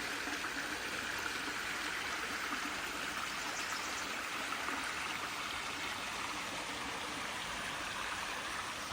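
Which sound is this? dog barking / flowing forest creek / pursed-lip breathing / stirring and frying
flowing forest creek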